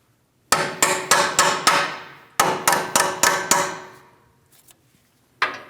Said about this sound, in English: A couple light taps should help drive these through